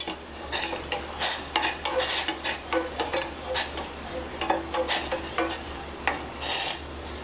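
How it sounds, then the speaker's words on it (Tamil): A utensil stirs softened almond gum in a pot, making rhythmic, close scraping and swishing strokes repeated steadily and unaccompanied by any voice. "அது கரையிறதுக்கு இந்த மாதிரி கொஞ்சம் லைட்டாக கிளறிக்கிட்டே இருங்க."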